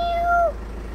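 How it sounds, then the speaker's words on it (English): A rescue cat living outdoors on a driveway gives a single short, weak meow up close, a thin rising-then-falling cry lasting about half a second before quiet hum. "She can just about meow."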